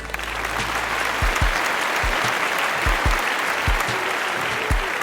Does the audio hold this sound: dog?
no